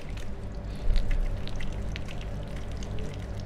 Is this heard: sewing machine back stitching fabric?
no